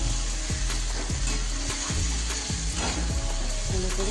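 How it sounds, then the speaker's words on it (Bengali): Spices for mung dal khichuri sauté in a hot pan, a steady close sizzle with repeated scraping stirs and soft clinks of the utensil against the metal. "এবার এটা আমি কষাতে থাকবো, ভালো করে কষিয়ে নেব।"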